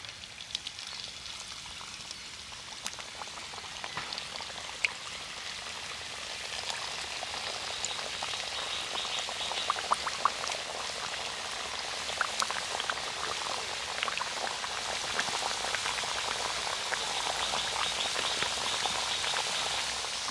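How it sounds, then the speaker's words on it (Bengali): Whole-wheat flour biscuits fry in hot oil with a steady, dense crackle and sizzle that continues for about twenty seconds, heard close with no voices. "পরের ব্যাচের বিস্কুটগুলোও একইভাবে ভেজে নেব।"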